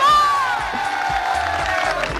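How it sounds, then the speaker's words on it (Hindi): Business school students cheer and whoop in welcome at a college event, with loud crowd noise and a high whistle-like shout riding over scattered clapping. "एरा बिजनेस स्कूल के बच्चे हमारे साथ हैं जो तालियों से हमारा स्वागत करेंगे।"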